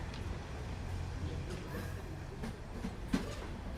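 Low rumble of a train in India rolling slowly into its final stop with doors open, with steady rail noise, faint clacks and a few sharp metallic knocks as it eases along.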